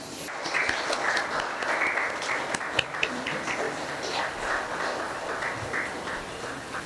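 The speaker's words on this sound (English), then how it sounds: "I request you all to kindly stand and welcome our dignitaries with a loud applause." An audience at a seminary inauguration for the 2021-22 academic year stands and applauds to welcome dignitaries, a dense, sustained clapping filling the hall at moderate loudness throughout.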